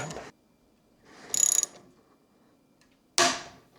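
A bolt cross-threading into an interior stair railing, with a few short scraping, ratcheting bursts separated by quiet gaps, and a louder, harsher burst near the end.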